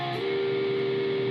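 Electric guitar opening part 3 of a solo, a single sustained note that slides up at the start and then rings steadily for about a second, played alone with a slightly overdriven tone.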